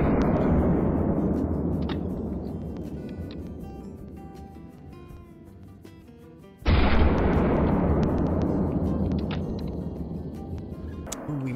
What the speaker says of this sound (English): So we'll try this 75 meter shot with the 44 Magnum and see how it goes.